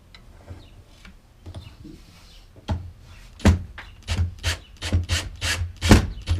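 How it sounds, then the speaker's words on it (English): A countersink bit cuts into a drilled hole in a boat with a series of rasping, scraping strokes that grow louder and quicker as they go, each a short rough burst. "I am gonna countersink it."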